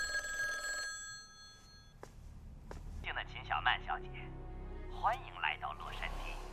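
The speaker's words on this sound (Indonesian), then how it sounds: "Malamnya Qin Sioman menerima telepon dari orang tak dikenal" A telephone bell rings with a bright, sustained trill for about two seconds. Its last rings fade and stop, and then people talk over a room backdrop.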